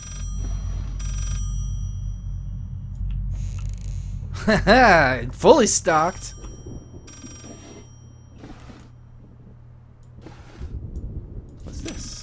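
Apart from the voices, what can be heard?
telephone ringing in the video game Layers of Fear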